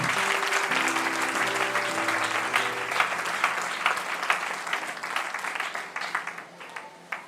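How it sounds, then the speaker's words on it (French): A church congregation applauds at a Sunday worship service with dense, sustained clapping that fills the whole stretch. A faint tonal sound runs underneath early on, and the applause gradually thins toward the end. "Acclame ceci."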